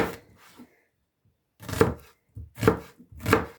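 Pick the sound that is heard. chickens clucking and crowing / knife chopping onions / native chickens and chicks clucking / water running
knife chopping onions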